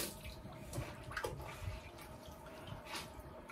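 Water splashing steadily while soap is rinsed off a face, a soft continuous wash of liquid close by that runs without a break.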